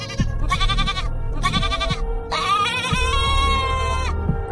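A goat bleats in three long, wavering cries, loud and close, with the last call stretching out and rising in pitch over a low background rumble.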